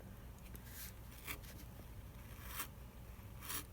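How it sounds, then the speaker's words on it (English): Scissors slicing through a paper postcard template in one long straight cut, quiet and close, with soft scraping strokes and a few brighter snips spaced across the stretch, no voices. "I try to do it all in just like one straight cut so that there's no jaggedy edges."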